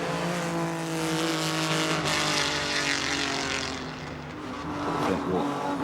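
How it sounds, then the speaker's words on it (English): A late 1950s Ferrari Grand Prix car passes a flint wall at speed, its loud engine note rising and then dropping as it sweeps past. A brief dip follows before the engine swells again near the end. "past the flint wall in this fabulous late 1950s Ferrari Grand Prix car"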